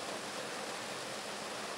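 Waterfall at the Chebika oasis in Tunisia among high rocks and palms, a steady broadband rush of falling water, even and continuous, heard alone at moderate distance.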